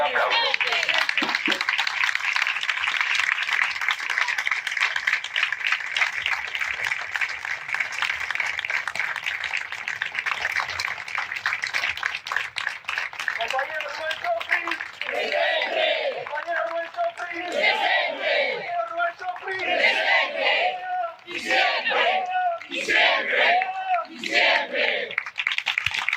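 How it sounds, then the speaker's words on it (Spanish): A studio crowd gives a sustained round of applause and cheering in tribute, dense clapping at first, then giving way to rhythmic chanting voices and clapping in the second half, loud and close throughout. "pido un minuto de aplauso"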